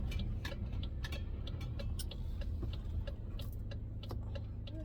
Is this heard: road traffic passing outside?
yes